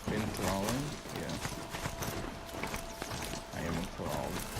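Horse hooves clip-clop at a steady riding pace in the video game Horizon Zero Dawn, with a spoken voice over the hoofbeats in places.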